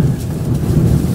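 Strong storm wind roars at Maringá airport in Paraná, a loud, dense, continuous rumble with a rain-like wash and no break or voices.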